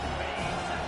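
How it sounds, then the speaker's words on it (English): Home football crowd at a Penn State versus TCU game roaring steadily as the defense faces third down, a dense, continuous wash of cheering with no breaks. "Here comes this home crowd as the defense tries to get off the field on third down."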